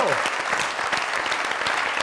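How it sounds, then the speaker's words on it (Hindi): A studio audience on the Pakistani comedy talk show Mazaq Raat applauds loudly to welcome a guest, a legendary actress. The clapping is thick and continuous throughout, with a voice faintly mixed in. "जोरदार तालियां"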